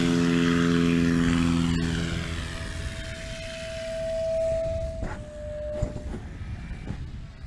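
A STOL airplane takes off at a short takeoff competition in Jennings, Louisiana: a steady propeller-engine drone that is loud at first, then swells and fades as the plane pulls away, with no talking.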